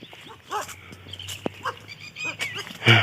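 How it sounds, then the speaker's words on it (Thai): A dog barks several times in uneven bursts, moderately close, outdoors in rural Thai countryside among scrub bushes, with faint rustling between the barks. "หมาก็เห่า"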